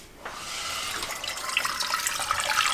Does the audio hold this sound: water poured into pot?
yes